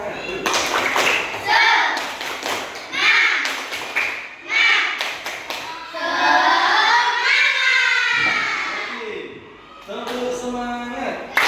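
A class of fourth-grade schoolchildren doing tepuk semangat, a chanted spirit clap, in a classroom, with bursts of rhythmic group clapping alternating with loud chanting voices close by.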